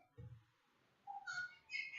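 A pet bird gives a few short, faint calls: a low hoot, then a brighter chirp and a couple of higher squawky notes spaced over two seconds, with no talk.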